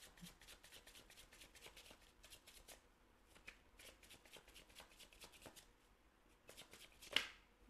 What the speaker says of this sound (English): Oh, loud shuffle this one.